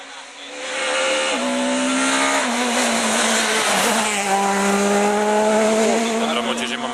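At the Rally Príncipe de Asturias 2009, a rally car rushes past at speed, its engine roaring loud and close as the revs climb and fall through gear shifts, while spectators' voices sound faintly underneath.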